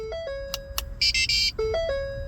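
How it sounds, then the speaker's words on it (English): Electronic chimes from a 2009 Lincoln MKS beep in stepped tones during key fob programming, with a shriller rapid beeping burst in the middle, steady and clear against a low background hum. "You'll hear a beeping sound to indicate that the 10 minutes countdown has started."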